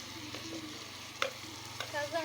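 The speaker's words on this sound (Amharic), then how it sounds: "ፓስታ በአትክልት እየሰራ ነው።" Pasta with vegetables being stirred while frying in a pan, a low steady sizzle with occasional scraping and clinks of the utensil, close by, with no voices.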